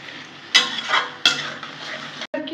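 A spice paste with water being sautéed in a pan for a dimer (egg) curry: low steady sizzling punctuated by two sharp metal spatula scrapes and a brief pause, close-up and without speech.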